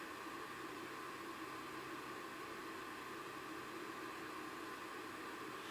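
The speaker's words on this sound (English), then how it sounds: "That noise you can hear the fan rolling" Steady broadband whir of the cooling fan inside a KAM Text Beam 300 laser projector, a constant loud hiss-like drone with no breaks, close by and alone.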